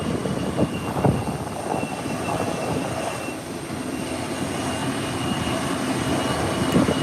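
An American Airlines Airbus A321neo taxis toward the runway at an airport, its engines producing a steady, continuous roar and rumble with no voices over it.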